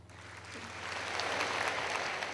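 An audience applauds at a gathering with the prime minister, a dense crowd clapping that swells steadily and stays loud throughout.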